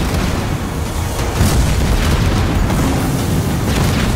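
A building exploding under enemy attack in Halo Wars 2, heard as loud booming blasts over a dense rumble of battle noise, with a stronger burst near the middle.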